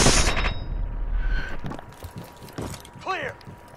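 Automatic gunfire in Call of Duty: Advanced Warfare, with a loud dense burst of shots at the start and scattered sharper reports after it, mixed with game effects and a voice talking over the action.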